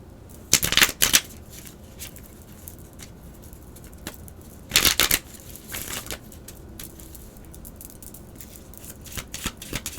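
A tarot card deck is shuffled in two quick bursts of riffling card flutter, with fainter scattered card handling and soft taps between them, close and with no talking.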